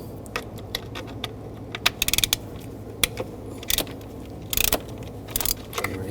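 On a 2000–2006 BMW X5 3.0L, a ratchet with a T40 socket clicks in short bursts while removing screws near the idle air control valve. Scattered metallic taps and clinks come close up, with no talking.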